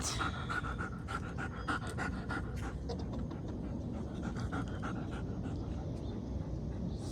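A dog pants steadily and rapidly close by, with a few faint whimpers, against a noisy outdoor background.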